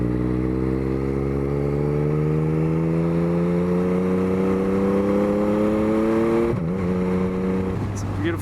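A 2021 Yamaha MT-09 motorcycle's exhaust rises steadily in pitch while riding, loud and close, then drops sharply as the throttle is cut near the end, with a rushing wind noise throughout.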